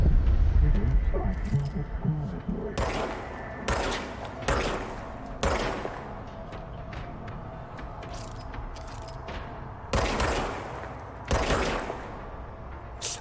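Revolver and gunshots in the video game Control, several loud sharp reports spaced irregularly over a low game ambience, with a person talking in between.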